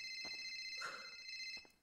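A phone rings in a video game roleplay, a faint, steady electronic ringtone tone with brief pulses, quiet and in the background.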